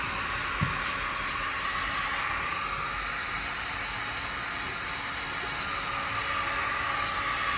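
A heat tool blowing a steady stream of hot air onto double-sided tape, a constant close whooshing hiss with a faint knock near the start and no talking.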